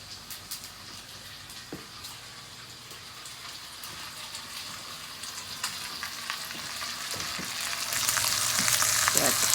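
A T-bone steak fries in a hot pan with a steady, close crackling sizzle that grows louder toward the end, dotted with small pops and spatters.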